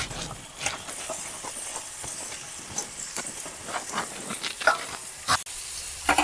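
Broad beans tipped into hot oil with softened tomato and ginger crackle and sizzle in a steady broadband hiss, with sharper pops and spatters rising through the frying.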